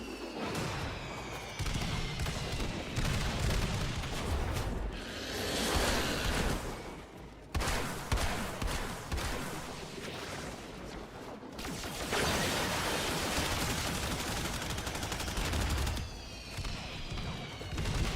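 Dense, rapid gunfire in a Destiny or Warframe shooter fight, near and loud, with bursts running almost continuously and brief pauses.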